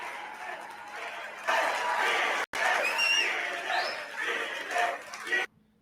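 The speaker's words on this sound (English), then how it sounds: "This is where the crowd's really getting into it." A CPAC crowd during a speaker's speech in Washington, DC, shouting and cheering in a loud, echoing roar that rises and falls in waves, with chanting voices mixed in before it cuts out.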